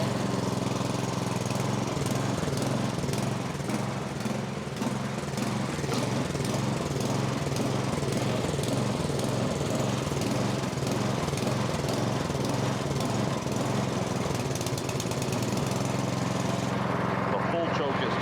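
A snowblower engine runs steadily on partial choke while warming up, a loud, continuous, slightly uneven mechanical drone heard up close with a pulsing rhythm throughout.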